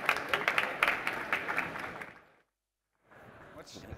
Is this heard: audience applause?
yes